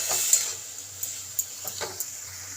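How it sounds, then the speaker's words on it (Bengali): Greens frying in a pan are stirred with a utensil, a handful of scraping clacks against the pan over a soft ongoing sizzle, close and without speech. "একটু নেড়ে দিই।"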